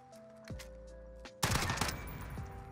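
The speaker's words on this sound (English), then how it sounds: "Got killed by a fire shotgun from that range." A close shotgun blast in a Call of Duty Modern Warfare Search and Destroy match, one sharp report about halfway through followed by a louder sustained burst of gunfire that fills the rest of the moment.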